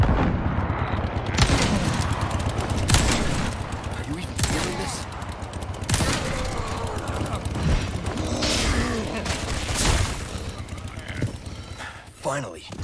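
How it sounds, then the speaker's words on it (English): Magnum hand cannon fired repeatedly in the Resident Evil 4 Remake video game against a chainsaw Ganado, several loud booming shots spaced seconds apart amid dense game action, with a voice talking over them. "it took 5 shots from the hand cannon to defeat the chainsaw Ganado"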